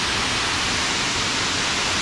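Waterfall at Cachoeira do Arco-Íris in Botuverá, Santa Catarina, a steady broadband roar of rushing water filling the scene, loud and continuous with no voices.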